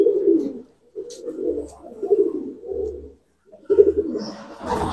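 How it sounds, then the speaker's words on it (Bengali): Small pigeons brought from Andhra cooing up close, a series of soft, low throaty coos in short phrases separated by brief pauses, with no talking. "অন্ধ্র থেকে ডাইরেক্ট আনা পায়রা"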